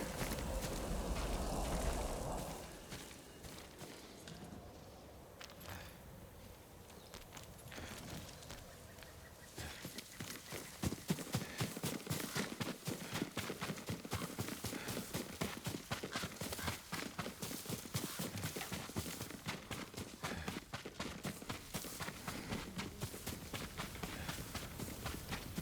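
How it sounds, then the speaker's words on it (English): Horse hooves clip-clop in the Ghost of Tsushima video game, a rapid, regular run of hoofbeats that starts partway through and carries on steadily to the end, close and fairly loud over ambient game sound. "Yuriko's horse."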